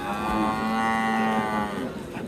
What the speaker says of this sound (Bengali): এগুলো হলো হাড্ডি সারের মতো, যেগুলো অল্প সময়ে মোটা তাজাকরণ উপযোগী এই গরুগুলো।